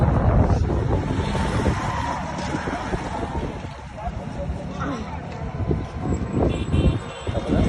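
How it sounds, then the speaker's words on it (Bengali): Strong gusts by a lake buffet the microphone in loud, rough bursts that rise and fall throughout, with a person talking over the wind. "কিছুটা বাতাস পাইতেছি আমরা"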